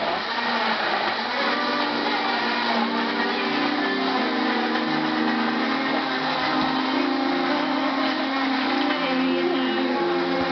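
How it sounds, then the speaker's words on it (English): An old blender crushes ice for a Starbucks Frappuccino, a loud continuous whirring grind that runs without a break, muffled and steady, with no talking. "we're going to do it until you can't hear the ice crush"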